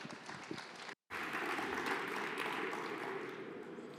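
Applause from a conference audience greeting a managing partner of Clemap before an industry talk on smart electrical grids, a steady moderate patter after a brief gap, with no voices over it.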